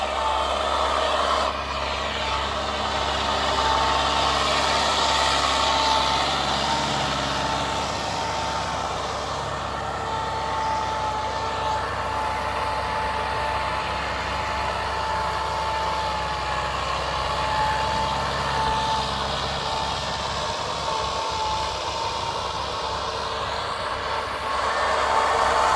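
A Massey Ferguson tractor with a Perkins engine and a newly fitted turbo runs at a steady idle, a continuous close rumble with a faint whine above it and no talking.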